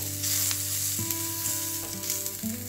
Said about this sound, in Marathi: आता यामध्येच आपल्याला 7-8 लसणाच्या पाकळ्या, त्याचबरोबर अर्धा इंच अद्रक आणि खोबरं थोडंसं भाजून घ्यायचं आहे।